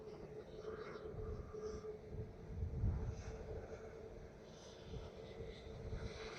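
An SAS airliner taxiing at Dublin Airport, a steady distant engine drone with a low rumble that swells slightly midway, faint and continuous with no voices.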